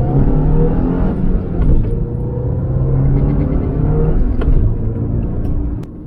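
The 2.5-litre engine of a Subaru Impreza with a dirty MAF sensor idles as a close, heavy rumble, then rises in a couple of revs before settling back down, with no talking over it.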